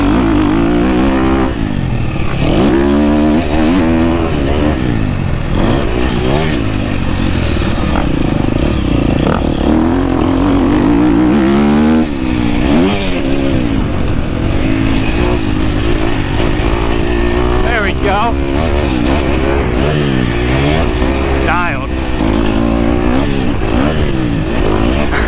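A 2024 KTM 250 SX-F motocross bike rides hard in second gear, its engine revving up and down in repeated surges with scraping and clatter. It is loud and close, with no speech.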